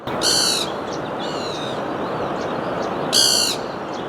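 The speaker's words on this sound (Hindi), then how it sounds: "जो पक्षी ऐसी आवाज़ कर रही है वो यहाँ पे बैठी हुई है इस पेड़ पे" Outdoors on a sunny morning in a hill village, a bird perched in a tree gives two loud, clear, rapid calls a few seconds apart over steady noise, and nobody speaks.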